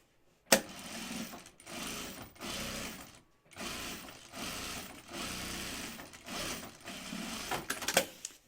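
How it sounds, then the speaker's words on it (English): A sewing machine edge stitches a canvas bag in several close bursts of whirring needle clatter, each run separated by brief pauses as the fabric is guided. "Now we're going to edge stitch it"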